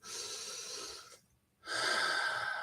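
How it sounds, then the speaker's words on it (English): A single deep breath: a long, close inhale, then a short silent hold, then a strong, loud exhale that lasts to the end. "take a deep breath, everybody"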